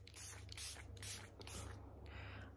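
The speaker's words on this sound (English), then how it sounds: "I'm going to finish with my Airbrush Flawless Setting Spray." Airbrush Flawless setting spray misted onto a face during a makeup routine: a few soft, close hissing bursts of aerosol spray in quick succession, with no talking.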